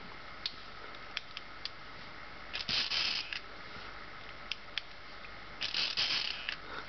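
A Curta pepper-grinder mechanical calculator is cranked while subtracting, giving quiet clicks and ratcheting gear sounds in irregular bursts, with two longer whirring crank turns standing out.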